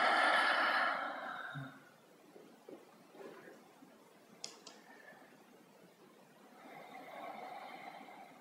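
A long, breathy exhale through the mouth during a yoga breathing exercise, soft and airy, followed by quieter breath noise and a second gentle outward breath near the end.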